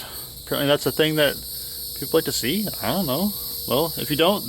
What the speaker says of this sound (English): you hear the cicadas in the background